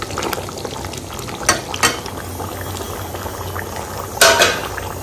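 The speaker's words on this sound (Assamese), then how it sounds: "ইয়াত মই বইল কৰিছো" Food boiling in a pot on a home kitchen stove, a continuous loud bubbling simmer with a few sharper clinks and pops of utensils against the pot.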